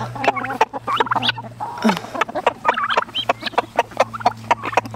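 Chickens clucking and squawking close by as they are fed pasta scattered on the ground, a busy stream of short calls over a low steady hum.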